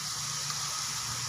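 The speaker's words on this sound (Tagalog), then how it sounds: "Guys, maglagay na tayo ng tubig." Water poured from a container into a cooking pot of browning onions on the stove, a steady soft splashing gush that runs unbroken for a moment, faint and close.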